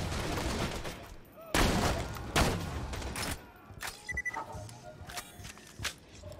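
Sniper rifle shots in the video game Borderlands 2, a few sharp loud cracks spaced a second or so apart, followed by quieter clicks and game effects, with someone talking intermittently.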